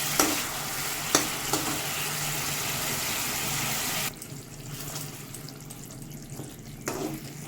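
Spices and gravy for doi potol sauté in a pan with a dense, close sizzle and occasional scraping stirs; the hiss drops sharply partway through and continues more softly.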